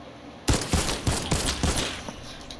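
Video game gunfire in a one-on-one match: a quick burst of about six loud, close shots in a rapid fusillade, alone with no talking.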